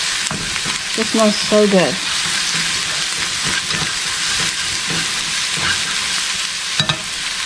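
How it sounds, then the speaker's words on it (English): Broth bubbles in a hot pan for Vietnamese bun bo hue, a loud, dense hiss and sizzle that holds steady throughout, with a short voice speaking over it partway through and a few faint clinks. "I'm going to add a little bit of our broth into this, and we're going to let it come to a nice boil"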